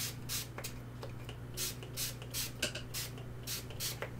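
A handheld spray bottle gives a series of short, airy mist bursts at a steady pace, each a soft hiss over a faint low hum.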